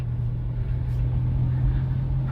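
A car engine runs in third gear, giving a loud, steady, even hum with a low rumble and no talking over it.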